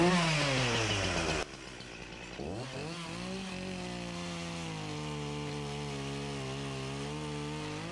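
Echo 501P chainsaw with a 14-inch dime tip bar carving mushrooms out of wood. The engine revs high and loud, then drops into a steady, close, droning run with no one speaking.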